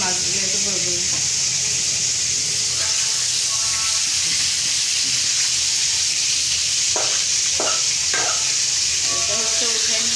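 Fish frying in a pan of hot oil while cooking fish heads with cauliflower, a loud steady sizzle and hiss throughout with occasional stirring scrapes and a voice speaking over it.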